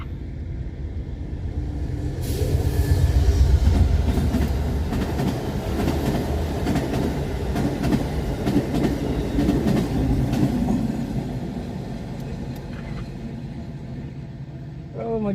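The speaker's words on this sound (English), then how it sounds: "comes the Amtrak. We got another one coming the other way, too." An Amtrak passenger train passes on the tracks outdoors, its deep rumble building to a loud peak and then settling into steady rolling clatter with rhythmic wheel clicks, slowly fading toward the end.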